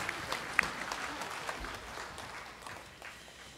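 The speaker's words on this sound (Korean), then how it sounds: "박수로 드리겠습니다" Applause from a congregation fills a Korean church during a Sunday service, a soft steady patter of many hands heard from a distance and slowly tapering off.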